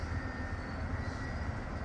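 Steady low rumble of eastbound freight trains sitting on the tracks, a constant droning idle with no change in level, heard from some distance outdoors.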